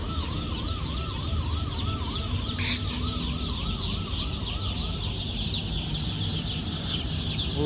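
Many young chicks in a poultry farm brooder peep in a constant chorus, with higher chirps over a steady hum and a wavering siren-like tone in the background.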